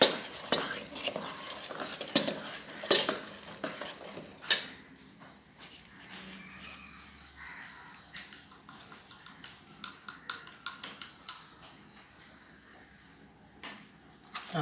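Chickpea dosa batter stirred with chilli powder and asafoetida, giving soft irregular scraping and clinking of a spoon against a bowl, louder in the first few seconds then quieter, with no talking.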